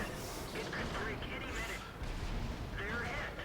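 A tank cannon shot lands in a World of Tanks battle involving an AMX 13 75 light tank, a dense, rumbling blast and rattle in a busy, noisy game soundscape.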